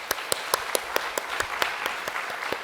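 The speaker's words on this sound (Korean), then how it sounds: "우리 환영의 박수 보내드리겠습니다" A church congregation at a Sunday service applauds in welcome, a sparse, moderately loud run of rhythmic handclaps over a soft room background.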